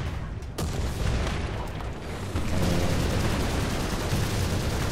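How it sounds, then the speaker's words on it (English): Artillery fire in the tank game War Thunder: a sharp distant crack, then rolling booms and a sustained low rumble of shelling that grows louder partway through. "More artillery."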